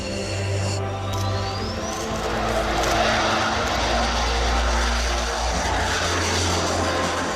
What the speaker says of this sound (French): Sans aucun pilote à bord, le vol de ce chasseur va durer ce jour-là 20 minutes.